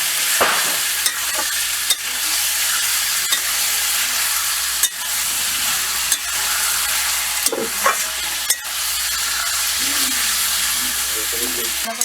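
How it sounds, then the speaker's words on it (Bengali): Meat is sautéed in oil in a pan, producing a loud, continuous frying hiss with occasional sharp clicks and scrapes of stirring. "মাংসটা দিয়ে একটু কষিয়ে নিই।"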